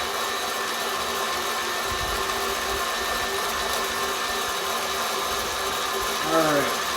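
A meat grinder works through brisket in a loud, constant mechanical drone that holds steady throughout, with a brief higher whine near the end.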